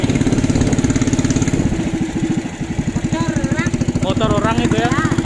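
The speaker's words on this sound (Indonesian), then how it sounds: "motor aja nyangkut di sini." Motorcycle engine idling and pulsing steadily while stuck in floodwater on a flooded public road in Muara Pias, Longkali, loud and close, with voices talking over it in the second half.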